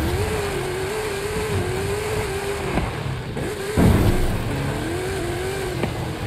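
A car engine in Forza Horizon 5 whines and revs in waves, pitch climbing and dropping repeatedly, with a few sharp knocks along the way.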